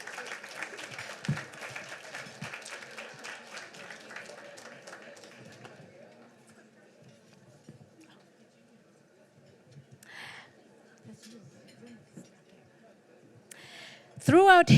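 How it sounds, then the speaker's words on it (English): An audience at a world summit session applauds: brisk, dense clapping for about six seconds that thins and fades, followed by near silence with a few scattered sounds and a sudden loud noise at the very end. "let us give her a big round of applause."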